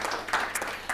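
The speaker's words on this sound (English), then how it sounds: "Just one more round of applause." A brief burst of audience applause at a panel discussion, many hands clapping at once in a steady patter.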